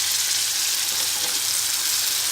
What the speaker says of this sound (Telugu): తాలింపు ఫ్రై అయిన తర్వాత ముందుగా నూరుకున్న పచ్చడి వేసుకోవాలి.